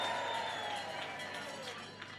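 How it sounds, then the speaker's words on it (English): Applause and cheering from a rally crowd for a speaker and his band, a dense, steady wash of claps filling a large space, fairly loud at first and easing slightly as it continues. "give him a big round of applause and his band"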